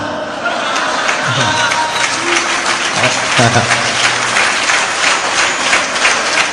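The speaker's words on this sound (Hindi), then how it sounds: "ये ताली बज रही ना" Applause from a large crowd at a Hindu religious gathering, a dense steady clapping that fills the whole stretch with a few voices mixed in underneath.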